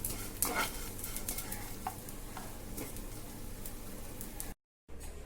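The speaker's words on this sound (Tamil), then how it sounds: "சேமியாவையும் நம்ம வறுத்து எடுக்கணும் நெய்யிலே நல்லா ஃப்ரை பண்ணி எடுத்துருவோம்" Steady soft sizzling of vermicelli frying in ghee, with scattered light clicks and stirring scrapes, close up and fairly quiet, with a brief dropout near the end.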